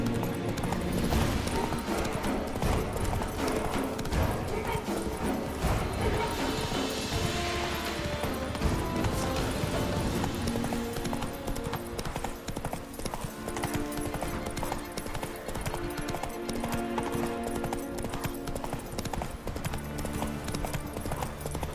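Geralt's horse Roach in The Witcher 3 clip-clops steadily throughout, its rhythmic hoofbeats loud and close over a dense backdrop of game music and ambience.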